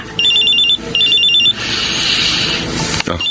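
A cellphone rings with a warbling electronic trill in two short bursts, then gives way to a sustained tone, heard close and loud over a steady dramatic music bed from a Filipino drama scene.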